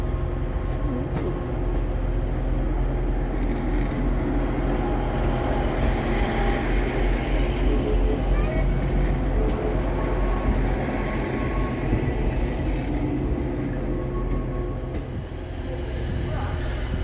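At Hull Paragon station, a Northern class 158 diesel unit pulls in on a service from Halifax, a continuous loud rumble of engine and wheels under the station roof that eases slightly near the end.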